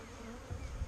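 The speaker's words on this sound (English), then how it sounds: "There was bees on them yesterday." Honey bees buzz around blossoming peach trees, a faint, brief, steady drone in the open air with no voices.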